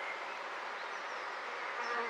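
Honeybees at a top bar hive left untouched for three years make a dense, continuous buzzing swarm drone, close and steady and fairly quiet, with no voices.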